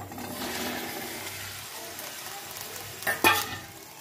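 Chickpeas stir-fried with potatoes in a pan make a steady, close sizzle, with a sharper scrape or clatter of stirring near the end and no speech.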